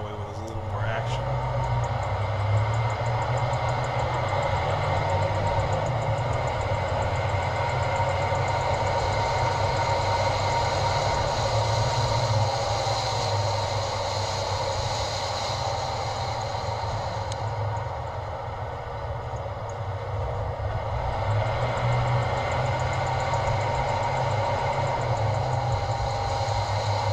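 A car turns a corner and accelerates onto a highway, producing a loud, constant engine drone and road roar heard from inside the cabin, steady and unbroken throughout.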